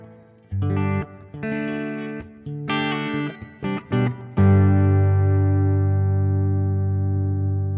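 An electric guitar run through a Sonicake Matribox 2 multi-effects unit with a church reverb preset plays a few short chord stabs, followed by a long held chord that blooms into a wide, lingering reverberant wash; no voices.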